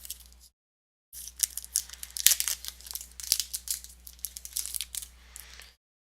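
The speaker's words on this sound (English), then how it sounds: "we're going to pop open this promo pack and see what's in these" Crinkly plastic wrapper of a Wok On Fire board game promo card pack being torn open and crumpled, a busy run of close crackles and rustles after a short pause.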